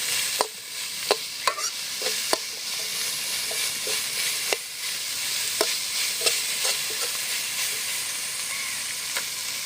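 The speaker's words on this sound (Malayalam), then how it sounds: "എല്ലാം ഒന്ന് നന്നായിട്ട് ഇളക്കി കൊടുക്കാം ഇത് ഞാൻ ഉപ്പിട്ട് കൊടുത്തിട്ടുണ്ട് കുറച്ച് ഉള്ളി വാടാനുള്ള ഉപ്പ്" Sliced onions sizzle steadily in a pan with salt for a Kerala-style crab roast, a constant frying hiss broken by frequent sharp clicks of a spoon stirring against the pan, close and loud, with no talking.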